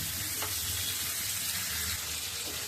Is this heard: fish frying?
yes